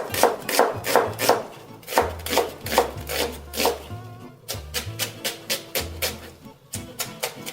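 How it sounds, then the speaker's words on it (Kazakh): An onion is chopped finely with a knife on a board, quick rhythmic knocks in bursts of several strokes with short pauses, close and clear with no talk. "Пиязды майдараак кылып туурайбыз."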